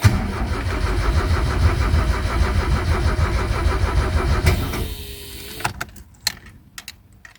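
Opel Manta GTE engine cranking repeatedly without catching, a steady loud rhythmic starter churn for several seconds before it stops, followed by a few scattered clanks and knocks in the quiet.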